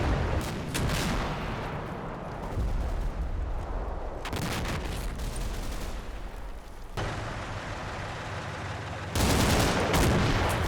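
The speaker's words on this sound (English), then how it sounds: "As the tanks shell possible enemy positions" Tanks shelling enemy positions in Combat Mission Red Thunder fire in loud repeated booming volleys, with bursts of heavy gunfire and rolling echoes between the shots.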